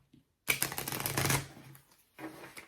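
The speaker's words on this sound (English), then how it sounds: "they'll do a standard card shuffle" A deck of tarot cards riffled together in a quick fluttering burst, followed by a shorter second riffle after a pause, close up.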